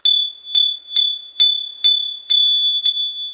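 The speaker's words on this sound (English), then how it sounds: "Sorry about the bell." A small bell is struck seven times at a steady pace, each ring bright and sustained before fading, loud and close with no talking.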